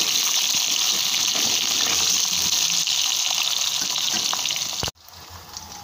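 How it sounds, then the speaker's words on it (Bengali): Potatoes fry in hot oil for a fish curry, a loud, steady hissing sizzle close by with faint stirring, breaking off abruptly near the end. "আলুটাকে একটু ভালো করে ভাজা ভাজা করে নেব,"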